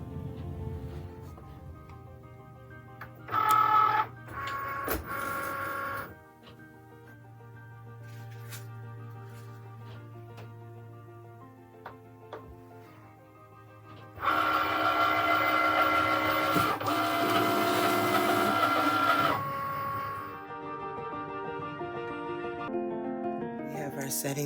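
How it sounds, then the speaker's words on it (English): A Cricut cutting machine works through heavy cardstock with whirring motor bursts and mechanical chatter that start and stop, broken by quieter stretches under a low hum. A voice talks faintly at times. "I'm gonna load it into my Cricut."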